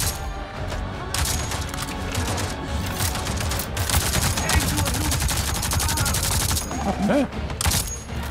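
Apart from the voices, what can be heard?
turret gunfire in Avatar Frontiers of Pandora video game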